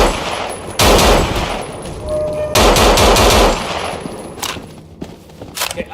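Gunfire in the zombie game No More Room in Hell, loud bursts of rapid automatic shots in two long volleys with a few scattered single shots after, with no talk.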